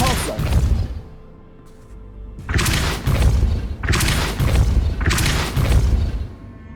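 Depulso spell cast again and again in Hogwarts Legacy, heavy booming blasts in bursts of about a second with short lulls between, loud and close.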